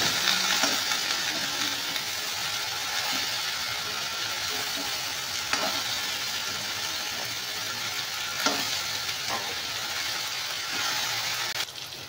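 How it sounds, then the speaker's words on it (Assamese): Fish pieces with potatoes, turmeric and salt fry in a pan, making a steady, fairly loud sizzle throughout with occasional scrapes and clinks of stirring. "এতিয়া গোটেইখিনি ভালদৰে ভাজি থাকিম অলপ সময়ৰ কাৰণে।"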